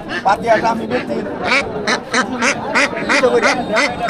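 Many ducks, local, Chinese and king breeds, quack repeatedly and loudly in close, overlapping bursts at a busy weekly village market in Bangladesh, with people chattering in the background.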